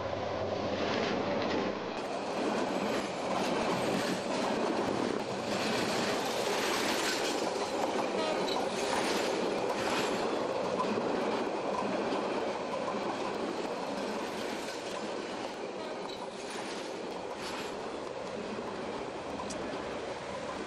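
A train rolls past at close range, a loud sustained rumble with rhythmic clickety-clack of wheels over rail joints and some squealing, continuing throughout.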